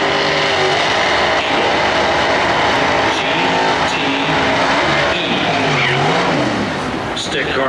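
A 1991 Oldsmobile Calais drag car with a 350 engine and rear-wheel-drive conversion roars down the strip at a Norwalk points race, loud and sustained, as an announcer talks over it.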